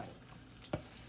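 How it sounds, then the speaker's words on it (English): Chicken frying in a pan for bourbon chicken gives a soft, steady sizzle, broken by one sharp clack of a utensil near the end of the very short moment. "let me let this fry down"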